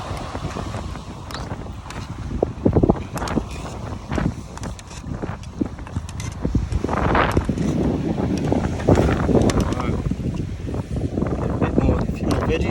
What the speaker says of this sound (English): The wind isn't helping me, is it?